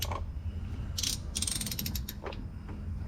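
A wrench ratchets in short clicking runs while tightening, quick bursts of pawl clicks close by over a low steady hum, with no talk.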